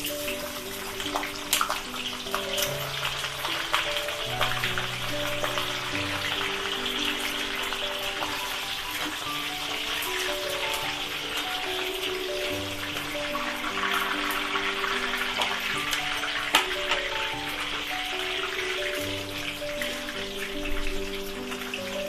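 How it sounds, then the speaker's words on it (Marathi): Cauliflower florets fry in hot oil for vegetable pulao, giving a steady dense sizzle and crackle throughout, with background music tones running underneath. "फ्लावर पण चांगला तळून घ्यायचा"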